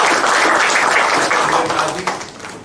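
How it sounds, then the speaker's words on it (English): An audience at a motivational session claps briefly, a busy burst of applause that stays loud at first and then thins out within a few seconds. "So big round of applause for"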